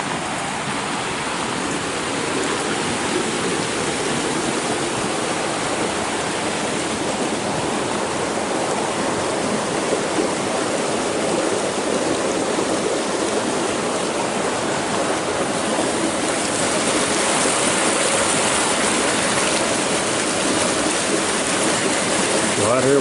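A rushing stream and waterfall in Icebox Canyon pour out a loud, unbroken roar that stays steady and close throughout, with no talk over it.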